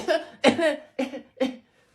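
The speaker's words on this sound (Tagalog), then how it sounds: "May ubo kasi ako." A person coughs four times in quick succession, close and fairly loud, each cough short and raspy with brief pauses between.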